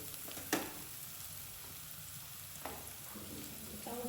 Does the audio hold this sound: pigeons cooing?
no